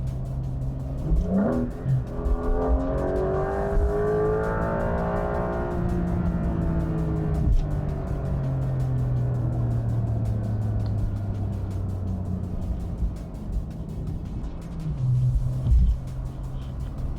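A Porsche 911 Carrera 4 GTS hybrid's exhaust rumbles loudly at the rear, its deep tone climbing as the engine revs, then settling into a steady drone before easing off.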